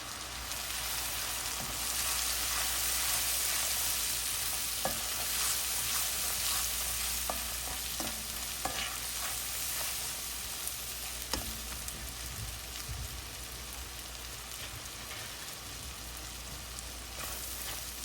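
Spices stirred and fried in a pan for a hilsa fish curry with taro stolons, a steady loud sizzle running throughout with scattered scraping clicks of a spatula against the pan.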